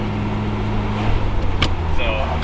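A turbocharged DSM car running on E85 at about 30 pounds of boost idles with a steady low hum and drone, heard from inside the car under a brief voice.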